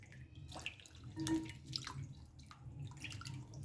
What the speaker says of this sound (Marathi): अशा पद्धतीनं आपण हे आलं स्वच्छ धुवून घेणार आहोत.